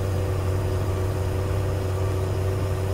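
A car engine hums steadily at a low pitch throughout, constant and close, with no voices.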